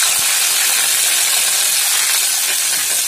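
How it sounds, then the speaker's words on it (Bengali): Ground onion paste dropped into hot oil in a pan sets off a loud, dense, unbroken hiss that fills the whole moment, close and steady throughout. "এরপর এর মধ্যে দিয়ে দিচ্ছি বেটে রাখা পেঁয়াজ।"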